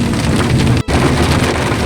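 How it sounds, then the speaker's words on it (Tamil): Heavy rain pours steadily on a road trip between Valparai and Athirappilly in Kerala, a loud dense hiss close by with a brief dropout midway and no voices. "இங்கேயும் ஹெவியாக மழை பிடிச்சிருச்சுங்க."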